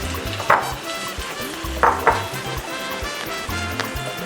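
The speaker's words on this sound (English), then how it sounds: "Okay, so I'm just going to let this fry." Echicha (achicha) frying in palm oil in a pan gives a steady crackling sizzle, with a few brief scraping clatters of stirring standing out above it.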